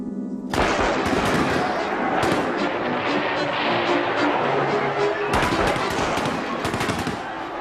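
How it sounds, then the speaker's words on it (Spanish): Dense volley of gunfire aimed at protesting workers in the early 1900s, sharp loud cracks and bursts overlapping in a continuous barrage with heavy rumble throughout. "A pesar de la lluvia de disparos que les cayó encima"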